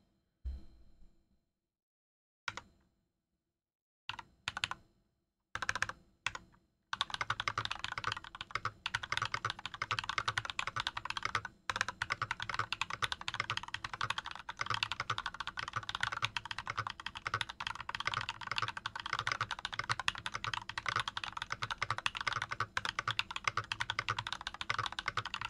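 Continuous typing on an NK65 v2 aluminum mechanical keyboard fitted with Glorious Panda switches, starting with a few sparse keystrokes and then a dense, steady run of close, crisp key clacks with no talking.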